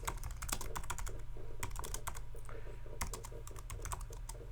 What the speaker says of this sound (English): then we're typing a title